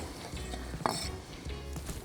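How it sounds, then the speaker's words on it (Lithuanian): Onions cook in about 50 grams of butter with a little olive oil in a pan, a soft low sizzle with a brief clink and stir midway, close and without talk. "Daug sviesto, maždaug 50 gramų, šiek tiek alyvuogių aliejaus, kad netaip degtų pieno baltymas, ir svogūnai keliauja į keptuvę."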